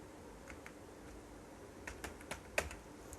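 Keystrokes on a computer keyboard while entering headings in a Microsoft Excel spreadsheet, a soft scattering of taps that thickens into a quicker burst of clicks toward the end, fairly faint and close with no talking.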